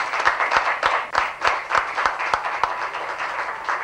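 A group of people claps loudly in a steady, even rhythm at a Hogwarts-themed children's event, each sharp beat landing roughly three times per second.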